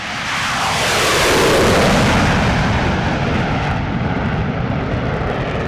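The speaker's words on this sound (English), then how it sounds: "So the display starts with the max afterburner takeoff." A jet warbird roars through a maximum-afterburner takeoff at a Temora airshow, a loud, dense, continuous blast that swells quickly and holds steady, with a rough, crackling edge.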